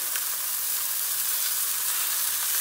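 Chicken searing in a pot, potatoes to follow for a kebab dish, gives a steady, even sizzle and hiss, moderately quiet and unbroken throughout.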